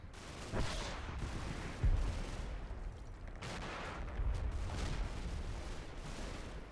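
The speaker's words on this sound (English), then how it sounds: "A bit more fire going in into the village there." Gunfire and explosions from the Combat Mission: Battle for Normandy war game: scattered shots and heavy booming bursts echo at mid distance, a sustained exchange of fire into a village with no voices.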